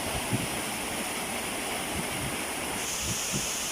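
Abuab waterfall in San Mateo, Rizal pours in a steady broad rushing hiss, constant and fairly soft, with faint low thumps of water underneath and no talk.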